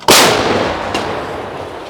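One heavy boom from an artillery gun fires sharply, then rolls and echoes away, with a fainter second report partway through.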